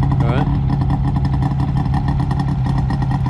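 A Mazda Porter's two-stroke engine runs at a car show, a loud, rapid, buzzing idle with a brief rising rev at the start, steady throughout.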